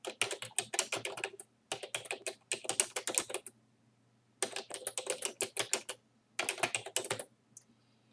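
Fast keystrokes on a computer keyboard while entering text in Microsoft Word, close and crisp, coming in several quick bursts with short pauses between them.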